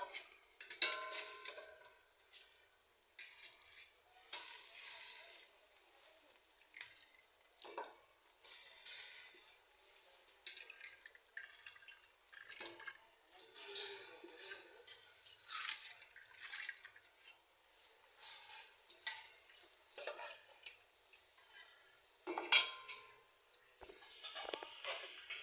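A spoon stirs and scrapes curry in a cooking pot while khichuri cooks, producing faint, irregular clinks and soft wet ticks in an otherwise quiet kitchen.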